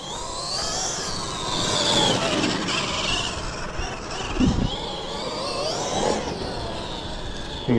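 Traxxas XRT RC truck with GPM outdrives and aluminium diff cases tearing around outdoors, its electric motor whining and revving in continuous loud bursts with tire and gravel noise, rising and falling as it accelerates.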